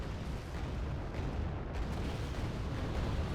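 Artillery fire landing on a sector during a Wargame: Red Dragon battle: a dense, continuous roar of rumbling distant impacts and booms, steady and loud throughout with no voices.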